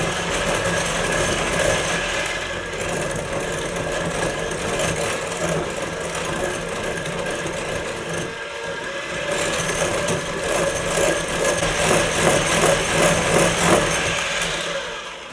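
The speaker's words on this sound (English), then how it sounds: "we're going to take and blend it all together" An electric mixer whirs steadily for about fifteen seconds while blending no-bake pumpkin pie filling with powdered sugar. The motor noise is continuous and fairly loud, with no one talking over it.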